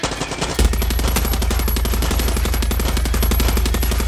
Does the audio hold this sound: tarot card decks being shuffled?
no